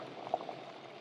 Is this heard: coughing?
no